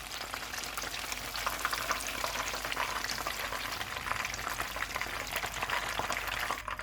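Chicken pakora pieces deep frying in hot oil, a steady dense crackle and sizzle that holds at an even, close level throughout with no voices.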